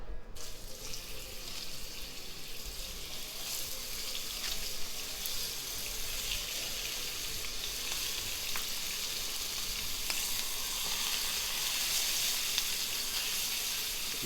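Floured veal tendrons sizzle and fry in a pan with a continuous, even crackling hiss at close range, steady throughout with no talking.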